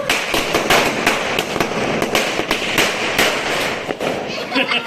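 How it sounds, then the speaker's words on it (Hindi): Firework rockets and firecrackers going off at a festive gathering of crackers, a loud, dense run of sharp cracks and pops close by, with people talking and shouting over them. "भैया एक और रॉकेट जला दो।"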